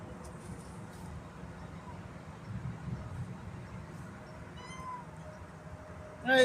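A cat meows a couple of times in short, clear calls near the end, heard outdoors beside a gasless flux-core welding setup over a steady low background rumble.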